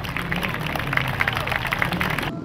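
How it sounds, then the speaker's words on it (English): Crowd applause for speedway rider Joe Haynes from the UK at a speedway meeting, a steady wash of many hands clapping at moderate distance that cuts off abruptly near the end. "give him a big, big round of applause"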